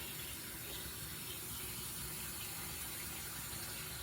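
Kitchen tap water left running to heat up before being mixed into a puppy's raw food, giving a steady, close rushing hiss and splash that continues unbroken with no talking.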